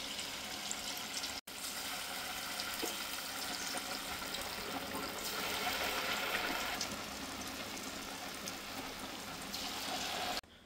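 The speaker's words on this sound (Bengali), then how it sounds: "এবারে পকোড়াগুলো ছেড়ে দেব।" Chire pakoras dropped into hot oil and frying, a steady dense sizzle and bubbling wash that holds continuously throughout, close and fairly loud, with one brief dropout near the start.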